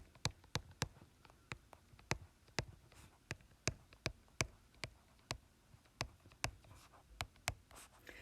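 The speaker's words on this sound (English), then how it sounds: "it is a little time consuming to write out." A hand writes on paper, steady and close. The pen strokes make a quiet, regular series of sharp taps and scratches with no talk.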